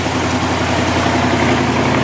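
A 1966 Corvette Stingray engine ticks over at a smooth, steady idle, loud and close with an even low rumble and no other sounds.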